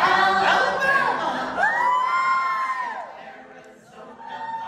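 A live audience at a performance whoops and cheers in bursts for their home state during a roll call, loud, bright voices rising and falling over a few seconds.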